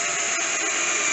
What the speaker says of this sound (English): gonna drill one right here